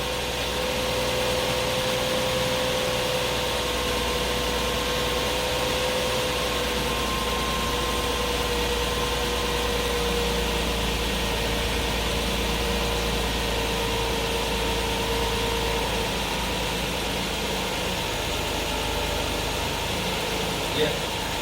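A Lexus IS200 engine idles steadily after an oil and filter change, a smooth, even hum running throughout while a person talks over it.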